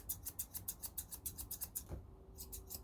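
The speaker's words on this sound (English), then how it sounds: "there's only my thumb moving the scissors" Rapid, rhythmic snipping of scissors close up, trimming a poodle's topknot, about a dozen crisp cuts in steady succession, then a brief pause and a soft rustle.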